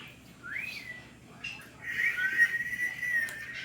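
A person whistles a few short notes, then a wavering, breathy whistled phrase with a brief rising slide, fairly close.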